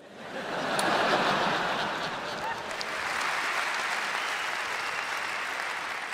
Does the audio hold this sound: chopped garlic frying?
no